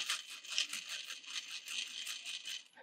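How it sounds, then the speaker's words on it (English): A sewing machine runs a quarter-inch seam on fabric with a shortened stitch length while making a small pouch, giving a fast, steady rattling hum with slight pulsing and no voices. "we're going to stitch it at a quarter of an inch"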